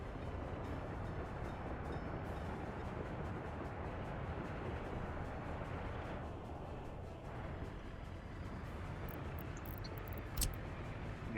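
A train rolls on rails in the city-building game Workers and Resources, giving a steady, fairly quiet rumble with no talk over it.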